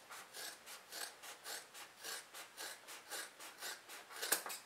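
Scissors cut through fabric beside sewn seams, producing a quiet, regular rasping snip roughly every third of a second, close and faint with a small click near the end.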